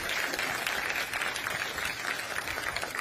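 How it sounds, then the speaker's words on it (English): An audience at a fintech conference claps in a steady, dense burst of applause that holds evenly from start to finish, with no voices over it. "Let's give her a big round of applause."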